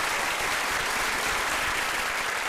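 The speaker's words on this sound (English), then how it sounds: "Now let's give those folks a round of applause." Steady, dense applause from an audience at a business networking meeting, filling the whole moment without a break, loud and sustained with no voices on top.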